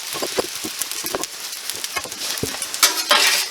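Hibachi fried rice sizzles in a hot pan with sauce while a utensil scrapes and stirs it in quick, irregular strokes, loud and close with a steady frying hiss underneath.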